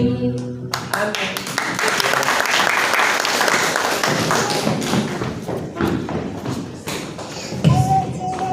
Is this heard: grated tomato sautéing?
no